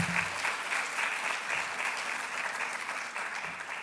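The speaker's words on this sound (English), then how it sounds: "So please, let's give them a round of applause." Sustained applause from an audience at a convocation ceremony for occupational therapy students graduating in 2023, steady and fairly loud clapping throughout with no talk.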